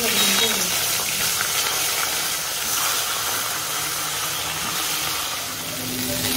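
Cauliflower pieces fry in hot oil in a pan, giving a continuous, close hiss and sizzle with small crackles throughout.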